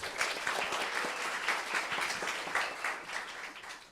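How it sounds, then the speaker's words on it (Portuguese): An audience at a talk by a psychic investigator applauds a man, a dense, continuous clapping that stays fairly soft and a little distant and fades slightly at the end. "Uma salva de palmas para o senhor"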